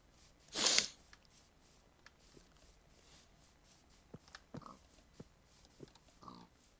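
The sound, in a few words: pigs oinking in the video game Minecraft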